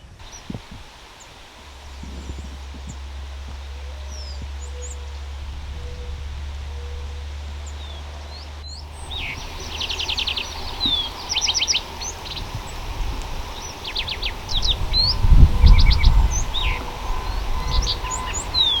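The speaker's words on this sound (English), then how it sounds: "Well, lark sparrow right off the bat." Birdsong in rolling prairie habitat with sandy soils and bur oaks, including lark sparrow; bright chirps and trills repeat through the clip over a low hum and rustling, with no talk.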